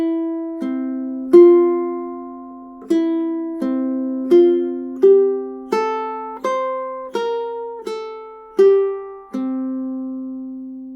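Ukulele playing the first measures of Fernando Sor's Opus 60 no. 1, an easy classical piece, as clean plucked notes in a slow, even rhythm, each ringing out close and clear with no talk.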